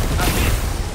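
Sentry guns fire in the video game 13 Sentinels: Aegis Rim as a dense, continuous barrage of rapid gunfire and booms, loud and close throughout the whole second.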